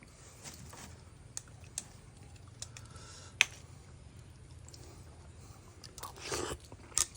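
Pickled fruit being chewed close to the mic: scattered crisp crunches and bites with moist chewing between them, one sharp loud crunch in the middle and a few more near the end, mostly without talk.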